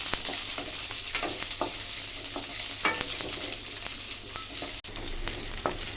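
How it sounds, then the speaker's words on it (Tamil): Ginger frying in hot oil alongside garlic for a village-style chicken curry, a steady dense sizzle with a few soft stirring scrapes and one brief knock, close and continuous without talk. "இது கூட ஒரு இன்ச் இஞ்சி ஆட் பண்ணி நல்லா கொஞ்சம் கோல்டன் ப்ரௌன் வர வரைக்கும் நல்லா கொஞ்சம் ஃப்ரை பண்ணிக்கலாம்"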